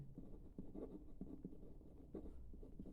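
Chalk or marker writing a circle circumference formula on a classroom board during a Class 10 mensuration lesson, a steady run of soft scratchy strokes and taps close by, with no talk.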